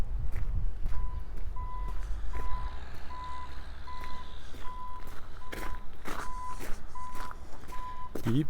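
A truck reverses nearby with its backup alarm beeping in a steady, evenly spaced series of tones, heard alongside crunching footsteps on a late-winter walk along a creek path in Regina.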